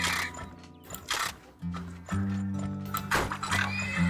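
Horses in the video game Turmoil neigh and whinny repeatedly, with clip-clop hooves and light mechanical game sounds underneath, fairly quiet and with no talk.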